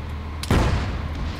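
A single heavy weapon blast in the WW2 village-assault video game Arma 3, a sudden loud boom with a short rumbling decay over low ambient noise.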